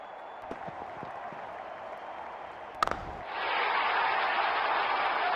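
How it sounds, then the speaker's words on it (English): A crowd in the cricket video game RC 20 cheers, a steady low murmur that swells into a louder, sustained roar partway through after a couple of sharp bat-like cracks. "Crowd is enjoying every bit of this."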